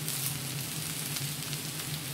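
Curry leaves hit a pan of frying batter-coated prawns with onions in Kerala style, producing a continuous soft sizzle and crackle with a low steady hum beneath, faint and without talking.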